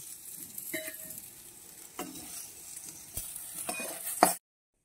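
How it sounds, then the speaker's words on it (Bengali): Eggplant slices fry in oil in a kadai and are turned over, a soft, steady sizzle broken by several scraping stirs of a spatula against the pan, close and quiet. "উপর দিকগুলো আমি ঠিক একভাবে উল্টে দেব, নিয়ে আর সামান্য একটু ভেজে নেব"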